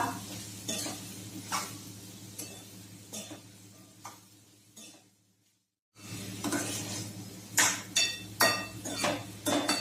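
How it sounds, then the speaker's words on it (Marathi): Finely chopped bottle gourd pieces being stirred in a pan, with irregular scraping strokes and knocks of a spoon against the metal over a soft sizzle, close by, pausing briefly near the middle, no voices. "यामध्ये टाकूया बारीक चिरून घेतलेल्या दुधी भोपळ्याच्या फोडी, व्यवस्थित मिक्स करूया"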